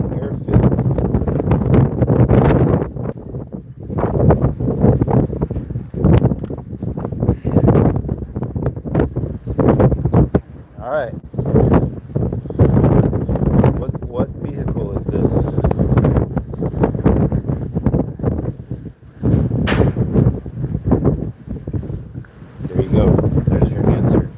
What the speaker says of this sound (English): you can't hear me because it's so windy